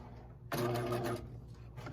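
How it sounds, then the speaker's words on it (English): Sewing machine stitching a 5/8 sleeve seam on a romper, a short close burst of rapid mechanical whirring lasting under a second, then quiet hum. "I'm going to stitch my 5/8."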